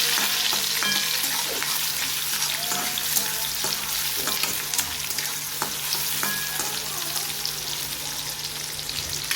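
Onion frying in oil with mustard seeds, green chillies, garlic and curry leaves: a steady crackling sizzle with popping spatters and periodic spoon taps against the pan, close up.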